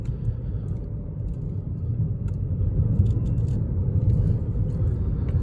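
Interior of a 2014 Dodge Avenger on a test drive: a steady low road rumble and engine drone fill the cabin, even and continuous, with faint clicks above and no talking.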